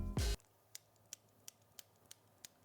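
Pusher on a NOMOS Worldtimer watch pressed repeatedly, a loud first press followed by a steady series of small, crisp, faint clicks at even intervals.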